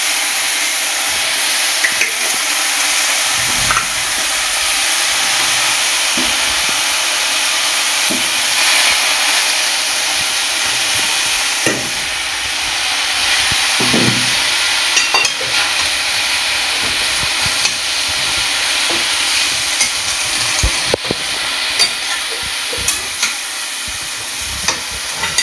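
Spinach stir-frying in a pan of white oil with spice paste for a vegetarian curry, giving a loud continuous sizzle with scattered scraping stir clicks throughout.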